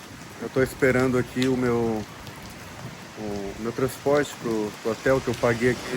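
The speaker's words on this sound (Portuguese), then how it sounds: "E olha a chuva que tá aqui na Turquia, cara." Rain falls steadily on a cold early morning in Turkey, a soft constant patter beneath someone talking close by.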